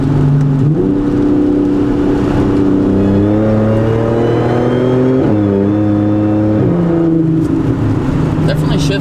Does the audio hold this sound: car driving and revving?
yes